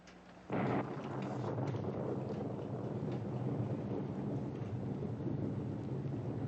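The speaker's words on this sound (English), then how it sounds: "She doesn't much like thunder." A loud crack of thunder opens into a long, heavy roll of rumbling thunder over a steady wash of rain, dense and sustained throughout with no voices.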